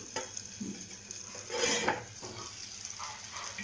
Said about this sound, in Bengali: ঢাকাটা খুললাম